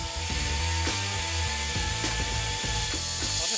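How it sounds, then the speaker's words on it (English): A tool cuts through a weld on a military gun barrel, grinding steadily in repeated rasping strokes with a rough, ratcheting texture. It is close and continuous, with no talking. "I need to make sure I cut the weld, not the barrel"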